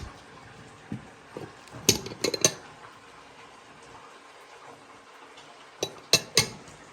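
Pieces of a German-made dishware set clinking as they are handled in a home kitchen, a few sharp clinks near the start and another cluster near the end, separated by quieter stretches.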